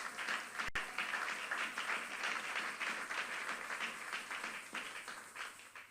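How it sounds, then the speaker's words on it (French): Church congregation applauding at a prayer gathering, many hands clapping in a sustained, fairly distant patter with a rhythmic pulse, continuing without speech. "On acclame très fort la parole de Dieu."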